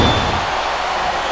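A wrestling video game body slam, specifically a sidewalk slam, lands amid a dense, steady wash of loud arena crowd noise that runs throughout without a sharp break.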